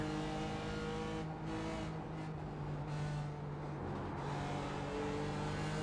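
A race car engine in the iRacing VR game howls near full throttle, a loud sustained tone that rises and shifts as it revs, with brief dips before climbing again, and no talking.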